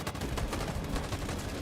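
Video game gunfire rattles in continuous rapid bursts, dense and unbroken, like automatic weapons firing throughout.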